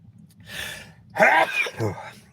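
A sharp, breathy sneeze bursts out after a short inhaled buildup, close and loud, followed by a brief vocal trailing sound.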